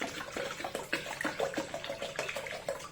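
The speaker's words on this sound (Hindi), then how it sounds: "आधा लीटर पानी इसमें जाएगा।" Water poured from a container into a bowl of yogurt while salted lassi is made, giving a steady, close splashing trickle with small gurgles for a few seconds.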